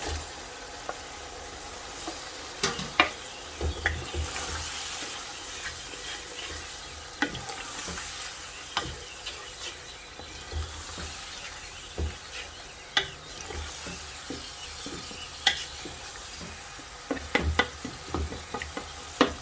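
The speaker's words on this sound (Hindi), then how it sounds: "अब इसमें डालूँगी ये टमाटर, ये 4 अदद थे, ये भी इसको मैंने इस तरह से काट लिया है, ये भी इसमें डाल देंगे" Tomatoes and beef shank stewing in a pan for a Lahori bong-style dish, giving a steady low sizzle and bubbling with scattered stirring clicks and scrapes throughout, no voices.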